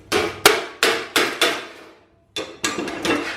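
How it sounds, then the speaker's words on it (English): A hammer taps a tall, blobby TIG weld bead on a butt-welded repair section, backed by a dolly underneath. Six sharp metallic strikes land in two groups separated by a short pause, each close and loud with a quick ringing decay. "If I put that dolly under that bead and I give it a bit of a tap with a hammer"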